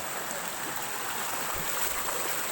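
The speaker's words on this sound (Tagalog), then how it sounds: "Yan po ang tinatawag nilang Del Pilar Falls." Del Pilar Falls, a multi-tiered waterfall, roars as a constant broadband wash of falling water, steady and fairly close with no talk.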